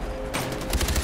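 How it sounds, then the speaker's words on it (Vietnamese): Gunfire in the video game Far Cry 4, a dense burst of rapid automatic shots that kicks in partway through and rattles on loudly to the end. "Cái mình nghĩ là mình lên lấy súng nó bắn đi."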